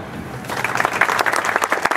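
An audience at the inauguration of a mobile leather-industry training workshop applauds in a short burst of close, uneven clapping that builds quickly and stays steady to the end.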